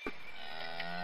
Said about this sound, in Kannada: ಕೌ